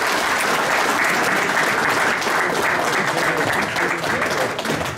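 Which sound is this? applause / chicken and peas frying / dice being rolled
applause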